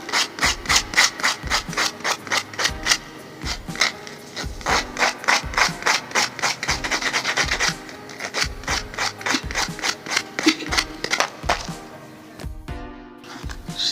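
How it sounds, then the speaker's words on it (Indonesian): Steady back-and-forth rasping of sandpaper on the edge of a dried banana-leaf ring, in a regular rhythm of quick strokes, close and loud, pausing briefly near the end. "diamplas pinggirannya supaya tertampaknya seperti setengah lingkaran"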